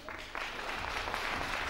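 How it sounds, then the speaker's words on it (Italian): Audience applause for a children's choir performance at the Zecchino d'Oro final evening, a brief but steady burst of many hands clapping, moderately loud and continuous. "Se lo meritano proprio l'applauso questi bambini"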